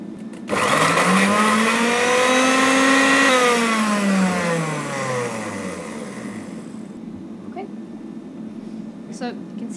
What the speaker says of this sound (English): with a nice sharp agitator in the bottom to really get it diced up fine